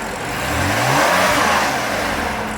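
A BMW M3 three-liter inline-six with an M Performance exhaust revs steadily, a loud, sustained engine roar that swells and eases, close by with no talking.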